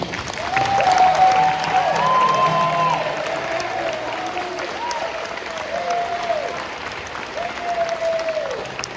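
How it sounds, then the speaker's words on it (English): Sustained applause from a school concert band audience, steady clapping throughout with a few tonal whistles or voices rising above it. "we can give you a round of applause first"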